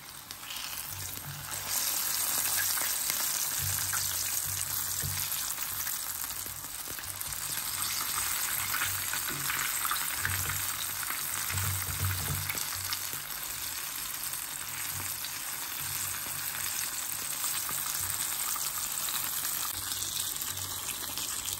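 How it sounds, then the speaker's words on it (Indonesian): Chicken sizzles and crackles in hot oil, a dense continuous frying hiss with occasional stirring sounds. "Sekarang tinggal kita goreng ke dalam minyak yang panas."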